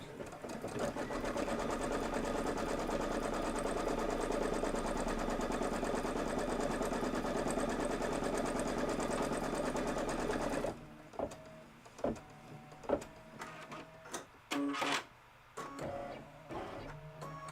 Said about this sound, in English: And then we'll just do the quilting stitch.